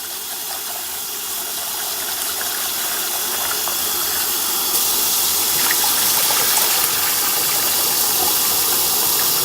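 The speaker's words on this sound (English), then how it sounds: "I'm gonna throw this off, and then I'm gonna wash it again the 3rd time" Running water pours and gushes steadily into a pot while rice is rinsed a third time, a continuous loud hiss that swells slightly partway through.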